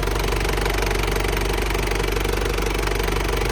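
An Isuzu Dragon 2.8 turbo diesel 4x4 pickup idles close by, giving a loud, steady diesel clatter with an even rapid knocking rhythm and no voices.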